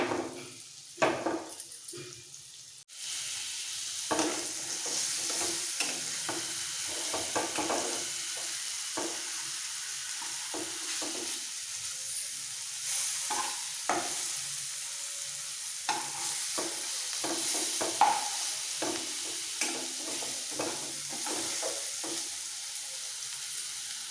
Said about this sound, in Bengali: সব পনির দিয়ে দিয়েছি এবার একটু ওপর নিচ করে হালকা ভেজে তুলে নেবো